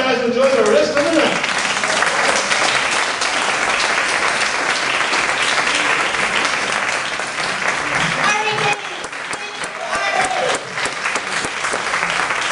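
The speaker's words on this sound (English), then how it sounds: "One more round of applause" Applause and cheering from a live-music audience at the Sierra Madre Playhouse, loud and sustained, with shouts and voices over the clapping and a brief dip before it swells again.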